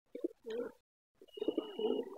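A pigeon coos close by in two short throaty bursts separated by a brief silence, with no other voices.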